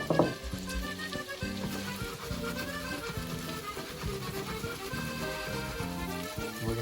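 Quartered mushrooms, about a dozen, sauteing in olive oil and butter give a steady, close sizzle and frying crackle throughout, running alone beneath a faint hum of background music.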